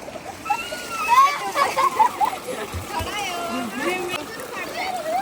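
Children bathing in village water, splashing and sloshing in uneven bursts close by, with excited kids' voices and adult talk running over the splashes.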